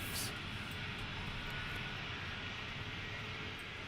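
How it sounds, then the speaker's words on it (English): Engines of KC-135 air-to-air refuelling aircraft rumble at RAF Mildenhall in the rain, a steady distant roar with a brief higher whine at the start. "They call it the Elephant Walk. With all of those KC-135s."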